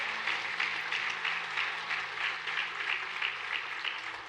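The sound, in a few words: church congregation applause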